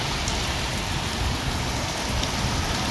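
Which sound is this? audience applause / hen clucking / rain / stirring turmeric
rain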